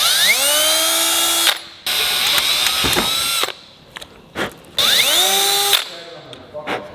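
A power drill whines up to speed and runs in several bursts while drilling holes in DIY-rebuilt transmission parts, with clicks and clunks in the pauses and people talking in between.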